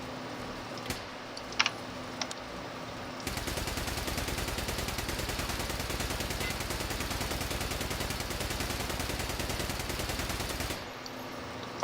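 AK rifle fired full-auto in the video game Escape from Tarkov, one long continuous burst of rapid, evenly paced shots lasting about seven seconds after a few quiet clicks.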